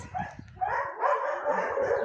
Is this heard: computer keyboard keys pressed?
no